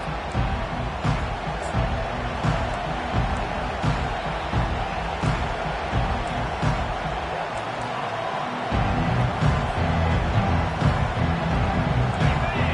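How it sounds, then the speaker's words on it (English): Stadium crowd at a football game roars continuously during a kickoff return, a dense, loud wall of cheering and noise that swells slightly near the end, with commentary voices beneath. "They challenge this crowd to bring the energy, and I'd say they're doing that."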